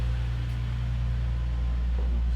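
A Nissan 370Z Nismo idling after a cold start on a slightly cold day, its exhaust giving a steady, loud low drone with an even hum and no breaks.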